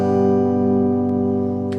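One electric guitar chord is strummed through an amplifier and rings out as a sustained, even tone that slowly fades, heard alone.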